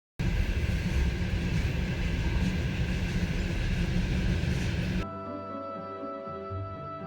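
The Trans-Siberian train rumbles along in a loud, steady, dense roar, then cuts to a quieter humming interior with a smoother drone.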